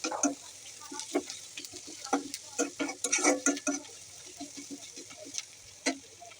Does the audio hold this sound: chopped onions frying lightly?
yes